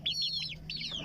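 Native chickens clucking close by, a quick series of rising and falling chirpy clucks in two short bursts, no talking.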